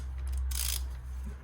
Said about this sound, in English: Ratchet goes on top, and we start undoing the filter